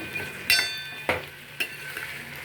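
Eggs fry in a pan with onions for an egg curry, a soft, quiet sizzle punctuated by three sharp clinks and scrapes of a stirring utensil against the pan, with no talking.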